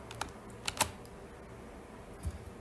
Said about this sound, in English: I'm gonna type it input bracket